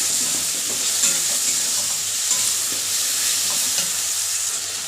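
Spice paste of turmeric and cumin powder, soaked in water, stir-fries in a pan for crab curry, giving a loud, steady sizzle with scraping stirs throughout and no voices.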